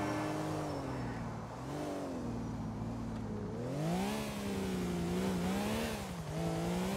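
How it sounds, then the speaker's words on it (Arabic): Car engine in the GTA IV video game revving up and down in rising and falling sweeps, close and fairly loud, with the pitch climbing several times as the car accelerates. "لكن ونحن دائمون اسمعوا معي المحرك"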